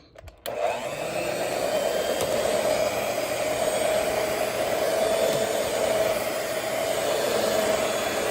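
An electric mixer whirs steadily, beating sweet potato pie filling made with extracts and honey, a constant close motor drone that starts abruptly and runs without pause.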